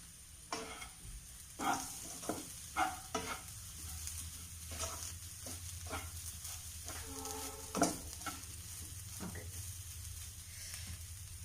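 Pumpkin leaf thoran is stirred in a pan over a low flame, with a spoon scraping and tapping against the pan in irregular bursts over a soft, steady sizzle.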